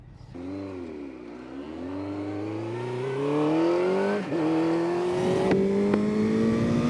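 A track motorcycle engine revs up steadily on a racetrack, its pitch climbing over several seconds with a brief dip and rise, loud and close throughout.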